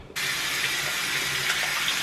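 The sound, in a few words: tap water running while washing hands and face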